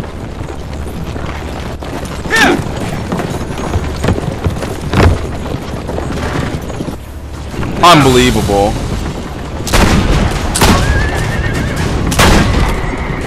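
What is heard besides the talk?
horses galloping and neighing in Assassin's Creed: Brotherhood video game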